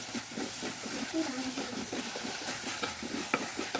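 Chopped tomatoes get stirred into Kerala-style country chicken curry in a pan, a soft hissing sizzle under scraping spoon strokes, close and fairly quiet.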